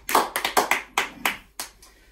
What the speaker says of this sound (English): let's give a clap offering unto the Lord